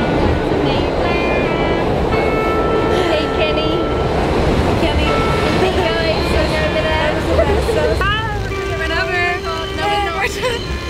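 Subway train rumbling and screeching along the rails in rainy weather, a dense continuous roar with squealing metallic tones rising near the end, while people talk over it.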